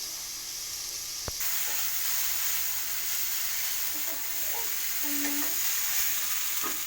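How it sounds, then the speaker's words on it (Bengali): Potatoes fry lightly in ghee in a hot pan, giving a steady soft sizzle and hiss close by, with a sharp knock near the start and occasional stirring scrapes, no talking. "দিয়ে এবার আলুগুলো হালকা ভেজে নেবো, লাল হবে না যেন"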